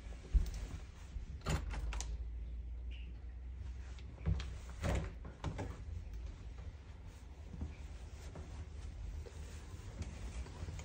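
A door opens indoors to let a cat out, with a couple of knocks and thuds from handling it over a steady wind-like rush and low rumble, no talking.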